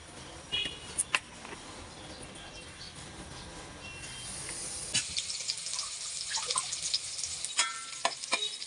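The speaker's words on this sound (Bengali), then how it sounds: "পেঁয়াজকে আমি ভালোভাবে বাদামি করে ভেজে নিচ্ছি" Onions and garlic frying in oil until brown, a soft continuous sizzle with sharp clicks and scrapes of a utensil against the pan, growing busier and more crackly toward the end.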